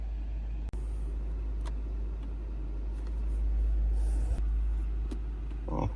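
A 2023 BMW 420d M Sport diesel engine rumbles steadily at close range, a low continuous drone with a brief dropout and a slight swell as it pulls away.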